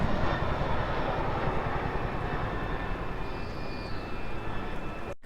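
A heavy rotor drone rumbles overhead, a broad steady roar from a Chinook helicopter passing nearby over the Thames foreshore, with no talking.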